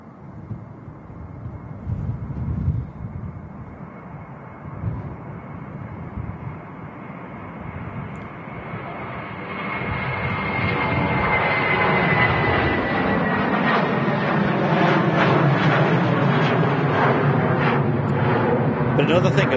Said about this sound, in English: Lufthansa A321 now rolling.